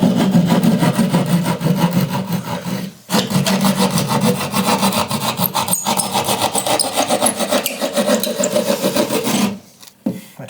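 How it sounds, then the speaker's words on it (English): A drill bores through a wooden floor support, giving a loud, steady grinding-rasp of bit against wood for about ten seconds, with two brief pauses where the bit stops. "drill a hole through this floor support"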